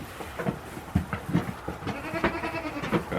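Goats bleat repeatedly at feeding time before breakfast, several overlapping calls close by with shuffling farmyard noise between them.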